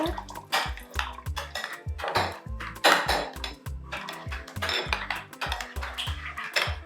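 Food seasoned with soya flavor is mixed in a pot, with repeated clinks and scrapes of a utensil against the vessel in an uneven rhythm, close and fairly loud, alongside faint water sounds.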